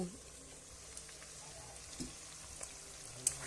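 Chicken curry in a pan sizzles softly and steadily while a spoon stirs it, with a few faint scrapes and taps over the low frying hiss, all fairly quiet.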